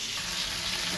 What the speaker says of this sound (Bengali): এইগুলো এবার আমি তেলের মধ্যে ফোড়ন দেব।